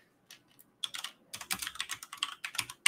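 Fast, uneven typing on a computer keyboard, close and fairly quiet, with bursts of key taps that thicken into a steady clatter after a short pause; no one speaks.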